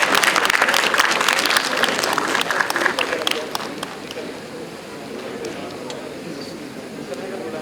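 A conference audience claps loudly together, dense at first and then thinning into scattered claps while speech runs underneath.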